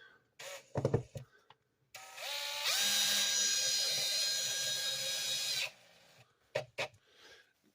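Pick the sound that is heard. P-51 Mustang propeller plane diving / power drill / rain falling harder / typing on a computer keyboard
power drill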